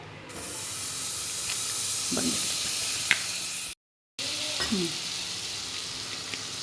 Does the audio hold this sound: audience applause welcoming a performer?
no